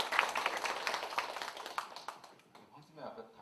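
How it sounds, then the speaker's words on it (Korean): People at a meeting clap for one another, a short burst of quiet scattered hand claps that fades out as voices start talking. "박수 한번 치시죠, 서로."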